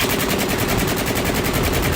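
Rapid assault rifle fire from a mech in the game Mecha Knights Nightmare, a dense continuous automatic burst with a steady fast rhythm, loud and close throughout with no talking.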